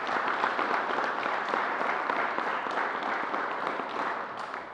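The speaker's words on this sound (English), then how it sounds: "So let's give New Yorkers a round of applause." Steady applause from an audience at a state COVID-19 update briefing in Buffalo, a dense wash of many hands clapping that holds evenly for several seconds and eases off slightly toward the end, with no talking.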